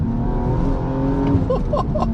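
The 3-litre six-cylinder engine of a BMW M135i hums steadily and loudly as the car drives, a deep continuous drone with some rising whine near the end.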